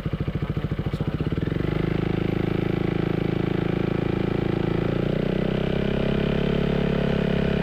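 Yamaha XMAX scooter with a Villan MV1 aftermarket exhaust and dB killer fitted, engine running close by with a steady pulsing idle that swells slightly early on, then holds an even, throaty drone throughout.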